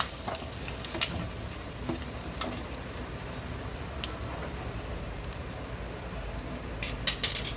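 Asafoetida and curry leaves sizzle steadily in hot oil, a dense crackling fry with scattered sharper pops, close and fairly quiet throughout.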